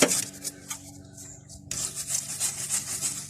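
Loose rust scrubbed off the upper ball joint mounting surfaces of a Mitsubishi Delica, close rhythmic rasping strokes with a brief pause before scrubbing resumes.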